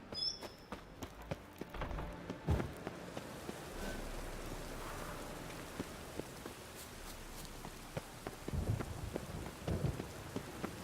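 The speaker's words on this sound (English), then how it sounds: "A storm, damn it." Steady rain patters throughout during a thunderstorm in a video game, with a few sharp cracks and low thunder rumbles rising over the rainfall, and no talking.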